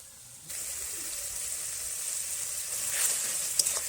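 Spice paste with a little water and salt simmers in a pan for a Bhola fish curry: a faint sizzle rises suddenly and then holds steady, with light bubbling and a few soft stirring touches near the end.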